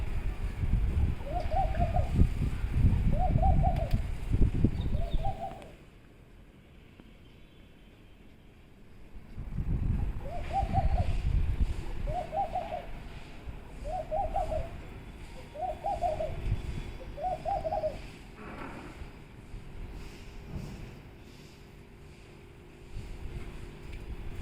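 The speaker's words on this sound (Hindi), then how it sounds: "ये कबूतर के बच्चे की आवाज़ होती है" A baby pigeon gives repeated short soft coos in steady runs, close by, with gusty wind noise rumbling underneath and a quiet pause between the two runs.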